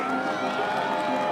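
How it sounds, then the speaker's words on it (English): Bassmaster Classic fans in Knoxville, Tennessee, a dense crowd cheering and murmuring in a loud, continuous roar with no single voice standing out. "Look at that crowd. It is for the fans."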